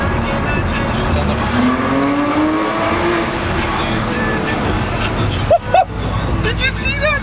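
A Porsche 911 GT3 of the 991.2 generation drives past with its exhaust open, the engine note rising and sweeping as it passes, with a brief sharp burst near the end and voices in the background.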